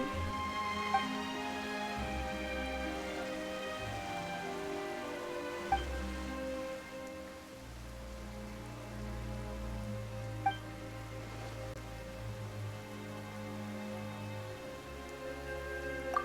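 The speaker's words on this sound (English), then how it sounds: "Why is it raining all of a sudden?" Steady rain falls suddenly in a fantasy role-playing video game scene, a dense continuous patter with a few soft drips over a low sustained musical drone, no voices.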